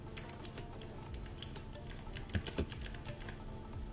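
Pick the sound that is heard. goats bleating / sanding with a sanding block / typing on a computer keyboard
typing on a computer keyboard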